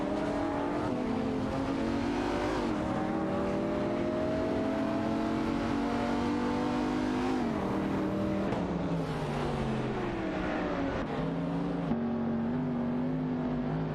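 Porsche and Viper race cars engines droning in a racing video game, continuous loud revving with pitch sweeping up and down through gear changes, several engines overlapping without pause.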